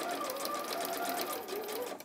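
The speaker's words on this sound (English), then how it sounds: "you're literally sewing on top of the seam that you've just sewn." A sewing machine runs continuously up close, stitching back over a freshly sewn seam with a steady rapid whirring hum that slows and stops at the end.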